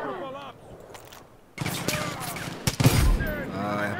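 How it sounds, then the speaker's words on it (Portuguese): Gunfire in Far Cry 5 comes as a rapid volley of shots and bursts, loud and close, with game character voices speaking in the mix. "você vai atirar no Bob mesmo?"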